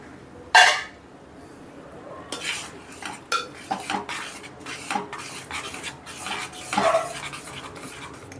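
Cooked dal is stirred into spices and red chili powder in a pot for gongura pappu, with a sharp clink at the start, then repeated scraping and metallic clatter of a spoon against the pot, close and moderately loud.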